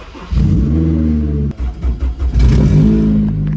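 A K-series Honda Civic engine fires up and revs, a loud close mid-pitched roar holding steady, dipping briefly through a few blips, then swelling again, with no talk.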